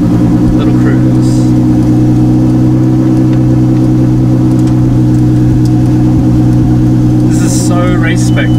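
Ferrari 488 Challenge EVO race car pulling away in first gear, its engine holding a steady loud drone throughout with slight rises in pitch, heard close from inside the cabin.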